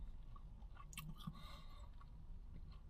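Close, wet chewing of crunchy deep-fried chicken wings with a few crisp crunches, steady and continuous with no talking.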